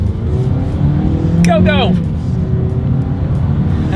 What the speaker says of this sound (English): Let's do a quick little acceleration here in the 2020 Yaris